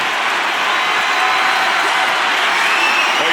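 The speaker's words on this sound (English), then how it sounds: "This capacity crowd is really willing these competitors on." Constant roar of a packed arena crowd cheering during a WWE 2K25 wrestling match, a dense wash of noise that holds steady and loud throughout with no clear breaks.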